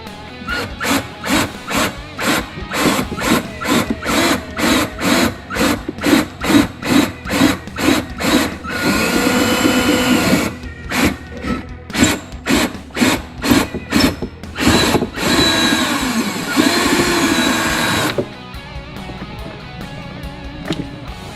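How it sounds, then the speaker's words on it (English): Power drill boring through Viking leather motorcycle saddlebags on a Kawasaki Mean Streak, a rapid series of short bursts followed by longer continuous whines, close and loud with no talk. "So when I drill through this one, it's also going to make a mark on this one"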